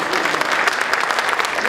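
Audience applause at an awards celebration held in a Methodist church venue, a dense, steady wash of many hands clapping close by and continuing throughout without pause.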